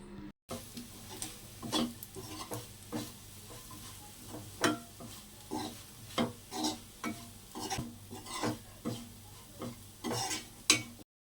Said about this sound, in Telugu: ఇప్పుడు ఈ స్పైసెస్ అన్నీ ఆలూకి బాగా పట్టించాలి